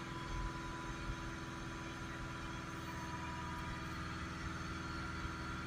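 A Land Rover 2.0 Ingenium diesel engine runs at raised revs near 2,500 RPM, a steady, close mechanical drone with a low throbbing hum that holds even throughout, with no talking.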